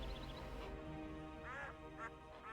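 Waterfowl calls from The Witcher 2, with several short honking quacks from geese in the game world. They come in brief bursts over a steady bed of game music and ambience.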